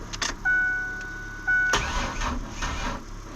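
Red Ford Explorer with a weak battery cranking and trying to start, two close bursts of starter whine with a chime tone between them, then sputtering engine noise that fades, no talk.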